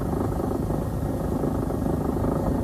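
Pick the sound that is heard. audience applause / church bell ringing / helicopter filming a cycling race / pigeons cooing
helicopter filming a cycling race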